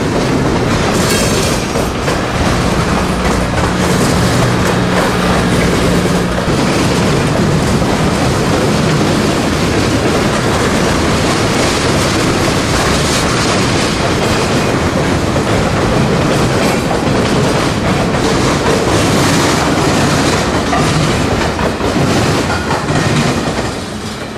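A long Norfolk Southern freight train rolls by close and loud near a railway diamond in Atlanta, a continuous heavy rumble with rhythmic clacking of wheels over rail joints.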